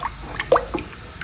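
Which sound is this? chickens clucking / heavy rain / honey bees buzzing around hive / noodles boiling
noodles boiling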